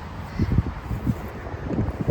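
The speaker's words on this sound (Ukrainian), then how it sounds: "Хмари і вітер." Gusty wind buffets the microphone in low rumbling bursts, loud and close, with a steady rushing noise underneath.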